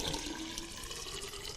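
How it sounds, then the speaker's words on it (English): Liquid poured from a container into a glass cylinder in a chemistry demonstration, a continuous gurgling pour heard up close, steady and unbroken for over a second with no speech. "I'll just pour some into this cylinder"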